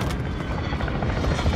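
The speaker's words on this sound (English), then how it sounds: "Our chopper gunner is inbound hot." A helicopter in Call of Duty Modern Warfare 2 Ground War gameplay gives a loud, dense rotor roar with rapid thudding blade chop, continuous throughout the short burst.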